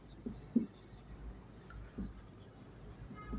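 Marker or chalk scratches on a classroom board during a Class 10 geometry lesson on triangles, a few short faint strokes at irregular intervals against quiet room noise.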